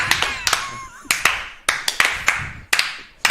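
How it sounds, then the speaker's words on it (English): A few people clap slowly at a tabletop role-playing game session, the distinct claps spaced out at first and then coming closer together as others join in, with some voices faintly underneath. "It's a clap. It's a slow clap."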